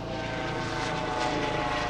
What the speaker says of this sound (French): Et il y a un hélico.